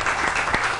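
Studio audience applause on a morning talk show, a loud dense burst of clapping from many hands, brief and sustained.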